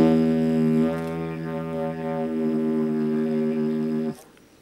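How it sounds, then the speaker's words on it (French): A homemade didgeridoo made from a plastic pipe plays a steady, loud low drone rich in harmonics for about four seconds, then stops abruptly, with no voices. "je vais vous montrer un didgeridoo, voilà, maison, en plastique"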